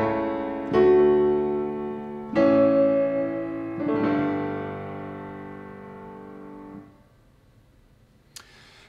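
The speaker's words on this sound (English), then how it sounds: "The first thing that I've got here is just a good acoustic piano." A bright-attack acoustic piano with light reverb plays three chords several seconds apart, each struck firmly and left to ring before fading to near silence, followed by a faint click.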